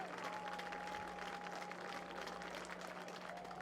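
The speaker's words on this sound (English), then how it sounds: "And the clap starts again." Spectators clap steadily through a baseball game, a continuous wash of distant applause from the stands with a faint tonal hum running underneath.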